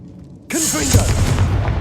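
A Confringo blast spell explodes in Hogwarts Legacy, a sudden loud boom striking after a quiet start and trailing into a rumbling, crackling burst with swooping magical tones.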